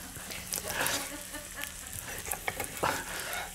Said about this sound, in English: I've just got some sliced onion, so I'm just going to start cooking that down.